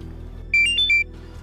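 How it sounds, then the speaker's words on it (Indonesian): A mobile phone SMS notification tone, a short melodic run of three or four bright electronic beeps, loud and clear over a low background hum. "Kayaknya ada SMS masuk deh, Sa."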